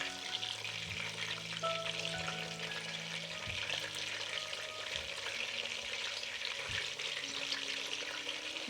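Continuous sizzling and spitting of meatballs frying in oil, fairly close, with a few soft knocks and clicks underneath.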